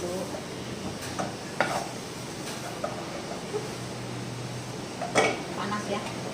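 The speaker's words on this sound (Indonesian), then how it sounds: "Saya mau goreng kerupuk guys, tapi pakai ini ya, nggak pakai wajan" Kerupuk crackers fry in used oil left over from frying bakwan, a soft steady sizzle with a few sharp crackles and pops, close by under a person speaking.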